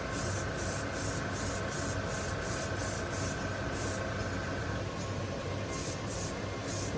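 A Gaahleri GHAD-68 airbrush sprays paint in a steady, close hiss that continues for several seconds, with faint rhythmic pulsing underneath and no voices.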